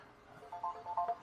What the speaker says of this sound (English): No, we're not going to take a phone call right now.